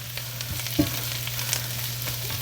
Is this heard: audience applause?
no